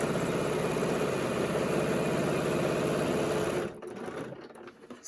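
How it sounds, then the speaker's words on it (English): Sewing machine running steadily and close, stitching a 1/4 inch seam across the bottom of a pleated fabric face mask with a filter pocket, a continuous rapid mechanical whir that stops abruptly near the end, leaving quiet handling sounds. "we'll sew across the bottom with a 1/4 inch seam"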